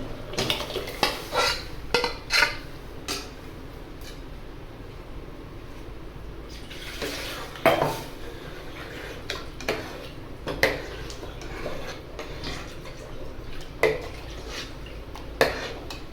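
Dal being stirred into vegetable sambar in a metal pot: repeated clinks and scrapes of a ladle against the pot, irregular and close, over a low steady background hum.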